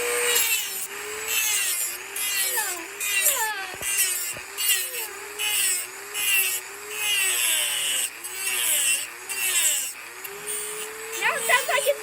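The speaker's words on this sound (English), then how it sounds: "What's the Dremel sound like, Kailyn?" A Dremel rotary tool grinds the wood of a pinewood derby truck with a wavering high whine that rises and dips as it bites. Voices are heard over it throughout.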